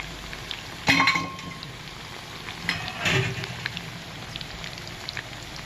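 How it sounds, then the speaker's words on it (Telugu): Chicken pakodi pieces fry in hot oil, a crackling sizzle with a couple of louder bursts from stirring or pieces shifting, close and without talk. "చికెన్ ముక్కలు పకోడీని ఈ విధంగా దోరగా వేయించుకోవాలి"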